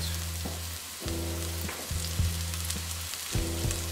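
Scallions and salt sizzle steadily in a hot pan with curry powder on the way, a constant frying hiss punctuated by a few stirring scrapes, close and alone.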